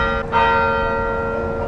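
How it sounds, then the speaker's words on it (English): A former Catholic church tower bell rings once with a loud clang, and its bright metallic tone and overtones hum on steadily, decaying slowly and alone. "The bell in the former Catholic church tower used to ring on special fiesta days and for morning and evening mass"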